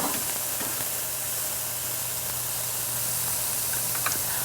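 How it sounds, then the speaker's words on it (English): Edamame sizzling in hot soybean oil in a pan gives a steady, even hiss at moderate level with no pauses, and nobody speaks over it. "You can hear a nice sizzle there."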